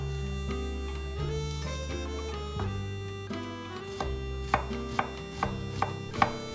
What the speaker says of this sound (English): So right now I'm chopping out some onions to put in my ketchup rice